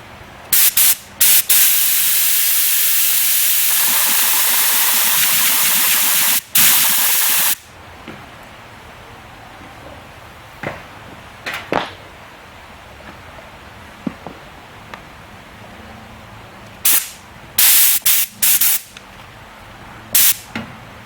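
A paint spray gun being cleaned out before priming a 1972 Dart trunk lid hisses in a long, loud continuous blast, then in a series of short sharp spurts with quiet pauses between.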